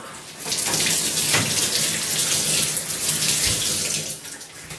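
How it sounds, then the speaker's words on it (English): Running tap water rinses conditioner out of a cosplay wig: a steady, close rush of water flows almost the whole time, with brief quieter moments at the start and end and no speech. "I'm going to rinse this one more time"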